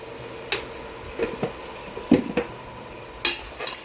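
A spoon scrapes and stirs chili powder, turmeric and coriander powder in a pan over a soft, constant sizzle of frying, with several brief scraping strokes.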